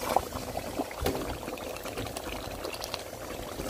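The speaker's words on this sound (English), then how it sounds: "add our meat stock." Meat stock poured into a pot of Nigerian beef stew, a close, splashing gurgle of liquid that runs steadily for a few seconds, with a couple of brief clinks near the start.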